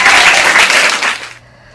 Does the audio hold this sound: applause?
yes